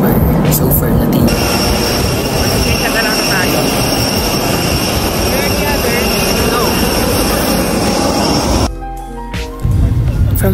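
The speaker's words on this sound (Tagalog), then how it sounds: "after almost an hour of travel sa ere, maglalanding ng aming plane sa Calibo Aklan Airport" Passenger jet landing at Kalibo Aklan Airport, a loud steady roar of engines and rushing air that runs continuously before dropping sharply near the end, then briefly resuming.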